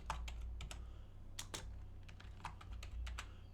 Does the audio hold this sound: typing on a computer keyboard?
yes